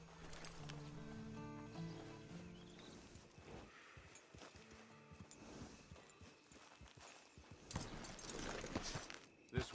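Horse hooves clip-clop steadily in Red Dead Online, a walking rhythm of close hoof falls on a dirt path over a low game soundtrack, with a brief snort or rustle near the end.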